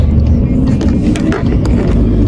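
A big garbage truck rumbles by, loud and close, with a deep engine roar and scattered clanks under a person talking.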